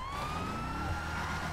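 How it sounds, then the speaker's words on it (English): A video game police siren wails steadily, its rising tone sweeping upward over a low engine rumble, loud and close throughout. "Sirens off."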